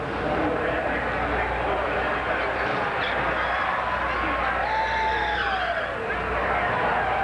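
A NASCAR Nextel Cup car from 2004 breaks loose on the throttle, its engine roaring steadily with tire squeal sweeping across the middle, under loud crowd and track noise and a commentator's voice.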